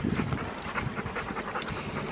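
A dog at a park panting in quick rhythmic breaths close to the microphone, with some wind noise and light background rustle.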